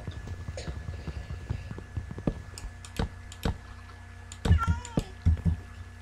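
A cat meows several times in short, separate calls over a quiet room, with light keyboard clicking during Minecraft play and no talk.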